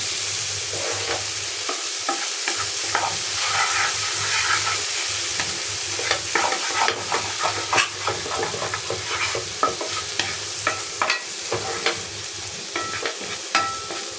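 Potatoes fry in a pan under a constant bright sizzle, while a utensil stirs and scrapes them in a string of sharp clinks that grow more frequent toward the end.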